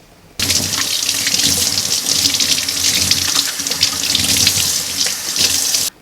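Tap water runs into a kitchen sink as corn is rinsed, a loud close steady splashing rush that starts suddenly after a moment of quiet and continues with slight surges until it cuts off near the end.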